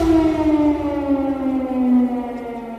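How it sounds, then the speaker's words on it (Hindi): An air raid siren wails across Kyiv during a Russian missile and drone attack, a loud sustained tone slowly falling in pitch with rich harmonics, sounding alone. "रूस के मिसाइल और ड्रोन को लेकर बजे सायरन ने पूरे कीव में कोहराम मचाकर रख दिया"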